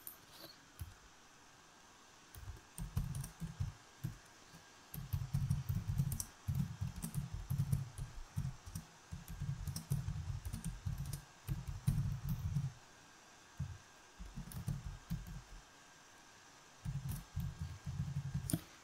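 Quiet keyboard typing comes in clustered bursts of rapid clicks, separated by short pauses, close and soft with no voices.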